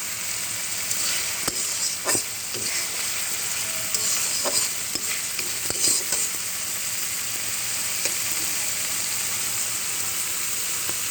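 Onion, garlic and spices fry in oil for a tilapia curry, a continuous close sizzle and hiss broken by occasional scrapes and taps of stirring.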